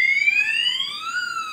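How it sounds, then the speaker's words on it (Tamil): Fire alarm sounder in an IT company building, set off by a smoke detector, giving a loud electronic tone that sweeps steadily upward with strong harmonics and then holds, heard alone. "அலாரம் ஆக்டிவேட் ஆகிடுச்சு பாருங்கள்."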